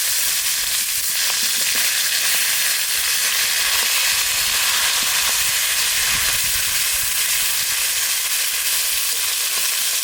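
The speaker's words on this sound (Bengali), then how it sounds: "এবার লবণ আর হলুদ দিয়ে ভেজে নেব। মাথাগুলো একটু ভেজে দেবো।" Hilsa fish heads fry in oil with salt and turmeric, giving a steady, dense sizzle and hiss that runs unbroken and fairly loud throughout, with no voices.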